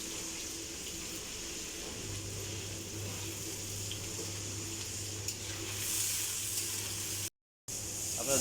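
Onions frying in a pan with cumin, cardamom and cloves for a quick chicken curry, a steady soft sizzle running throughout with a low hum underneath and a sudden brief dropout near the end.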